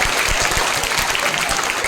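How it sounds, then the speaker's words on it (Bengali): Applause for a prize winner at a school prize distribution ceremony at a girls' school, a dense, steady crowd of clapping hands filling the hall for about two seconds with no talk over it. "মৌসুমীর জন্য একটা ভালো হাততালি দাও"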